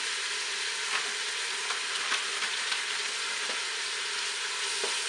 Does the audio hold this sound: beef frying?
yes